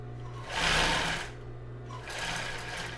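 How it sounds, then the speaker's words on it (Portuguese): A sewing machine running a straight stitch on fabric while making underwear, in two steady bursts of motor whir with a brief pause between, close and clear, no talking. "pode passar aqui uma costurinha reta sem fazer acabamento"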